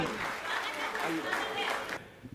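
Audience applause at a Hindi comedy poetry recital, a dense, steady wash of clapping from a seated crowd that holds for a couple of seconds before cutting off.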